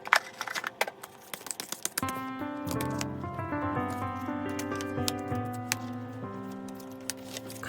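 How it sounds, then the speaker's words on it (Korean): Tarot cards are shuffled by hand, making rapid soft pattering and light snapping ticks, alone at first and then under gentle background music that comes in after about two seconds. "그러면 카드 셔플 시작해보도록 할게요"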